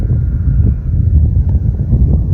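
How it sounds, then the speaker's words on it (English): Wind gusts outdoors on a windy day, buffeting the microphone with a loud, low, rumbling roar that swells and dips continuously, with no speech. "it's a windy day"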